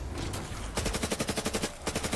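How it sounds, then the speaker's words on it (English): Mark II ray gun fired in Black Ops 3 Zombies, a rapid burst of loud pulsing energy shots in quick regular succession, close and dominant with no speech over it. "Oh, I forgot you had the freaking Mark II ray gun."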